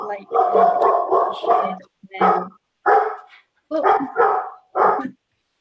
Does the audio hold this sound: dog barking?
yes